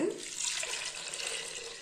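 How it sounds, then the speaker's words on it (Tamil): Water poured into a pot for yellow pumpkin gravy, a steady close splashing stream running evenly from start to finish, alone without talking. "தேவையான அளவு தண்ணி ஊற்றிக்கலாங்க"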